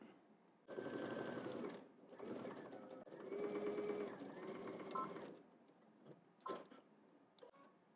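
A sewing machine stitches a garment seam in regular stitch, running in a few fairly quiet, close bursts separated by short stops, with a few light clicks at the end.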